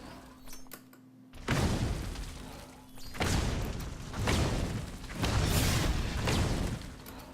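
Fireball spell shots fired in the Spellbreak video game, three to four loud booming whooshes in a row, each a broad burst of sound that swells and lingers before the next, with a steady low hum underneath.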